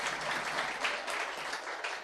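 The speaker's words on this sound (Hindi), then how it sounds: "तालियां क्यों बजा रहे हो?" Audience applause fills a lecture hall during a Business Law class, dense steady clapping without speech for about two seconds.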